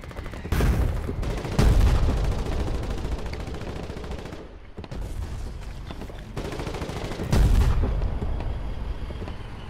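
Heavy 120mm artillery shelling in a Foxhole battle sends several loud booming impacts with rumbling tails, spaced a few seconds apart, over constant battlefield din.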